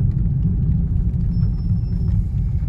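A car making a U-turn on the road during the Mumbai to Anganewadi drive gives a steady, close, low engine and road rumble with no breaks.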